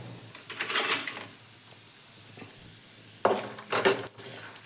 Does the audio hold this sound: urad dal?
yes